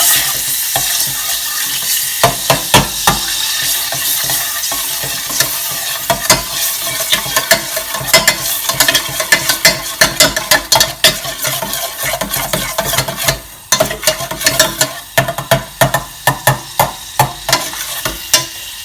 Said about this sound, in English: Because the pan's hot, the butter's melting quick.